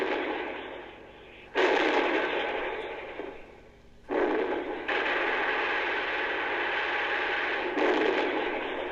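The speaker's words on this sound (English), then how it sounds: "the heavy artillery fire repulsed the enemy tanks" Heavy artillery fire in a 1967 World War II audio drama, set at the Battle of the Bulge: loud, sustained roaring bursts that hit suddenly and hold, with no voices over them.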